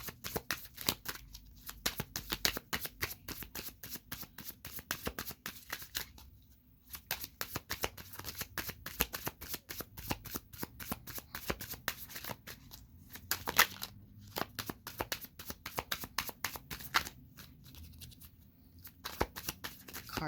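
Tarot cards are shuffled continuously, with quick riffling and slapping of the deck close by at a soft level, broken by a few short pauses.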